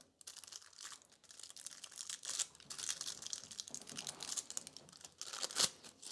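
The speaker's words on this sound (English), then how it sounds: "Let's transfer foil on this one." Nail art transfer foil pressed onto a fingernail, with soft crinkling and rustling that comes in irregular bursts, close and quiet, ending in a short sharper crinkle, no voices.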